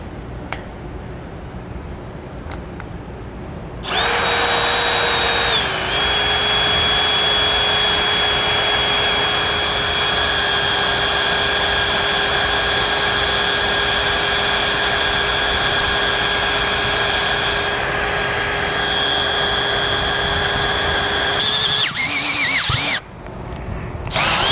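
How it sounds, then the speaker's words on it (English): A power drill bores out tack welds on a vehicle bumper with a small pilot bit while a base plate kit is installed: a loud, steady, high whine running about eighteen seconds, with short quieter stretches before and after. "I'm going to start with a small drill bit to give me a pilot hole first"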